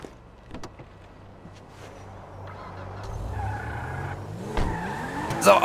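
A car in the video game GTA 5 pulling away, engine hum building steadily before a sharp tire squeal near the end, loud and close.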